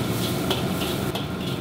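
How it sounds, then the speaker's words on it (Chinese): Minced garlic sizzling in a little hot oil in a wok, a steady dense frying hiss with light stirring scrapes, close and fairly loud. "然后加入适量的蒜末爆香。"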